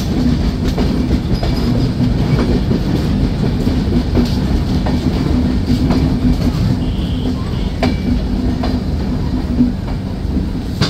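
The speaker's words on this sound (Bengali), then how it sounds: "ট্রেনটি প্রবেশ করছে কালুখালী জংশন রেলওয়ে স্টেশনে।" The Madhumati Express pulling into Kalukhali Junction railway station in Bangladesh, heard from on board as a constant loud rumble with rhythmic wheel clatter and occasional faint squeals.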